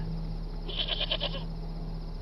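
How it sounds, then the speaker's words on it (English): A goat gives one short, wavering bleat, fairly faint against a steady background hum, with no one talking. "It's a goat."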